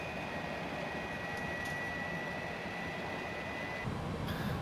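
Airbus A300-600F jet engines in the X-Plane 11 flight simulator give a steady, broad roar with a thin high whine riding on top; the tone shifts and swells slightly near the end.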